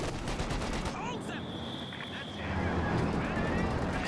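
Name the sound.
machine gun fire in video game Company of Heroes 2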